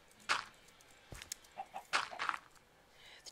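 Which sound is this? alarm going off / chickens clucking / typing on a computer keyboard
chickens clucking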